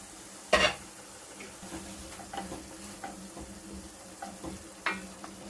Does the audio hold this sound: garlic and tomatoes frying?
yes